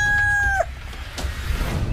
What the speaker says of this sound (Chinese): 公鸡打鸣，该换班